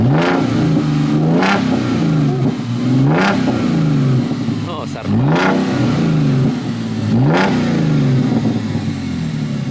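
Audi V6 S-Line with dual exhaust and twin cutout valves opened, revving hard in repeated loud bursts that climb and fall back to a rough idle, close by, with brief speech between blips.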